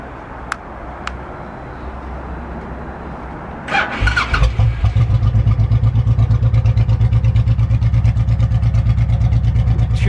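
A 2005 Honda VTX1800 cruiser motorcycle, big-twin engine with a modified intake filter, cranks and fires up, then settles into a loud, steady, throbbing idle close by, after a few faint clicks.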